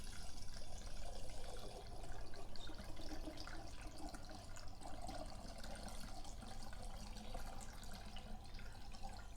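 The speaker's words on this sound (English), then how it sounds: "So we'll just fill that up with water." Steady rushing water pours continuously into a vintage Soda King seltzer bottle, a constant broadband splash with no pauses or talking.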